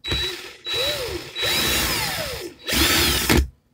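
A power drill spinning a 0.2 ribbon clamped in its chuck gives several whirring bursts with rising and falling pitch, broken by brief pauses, close and fairly loud, with no speech.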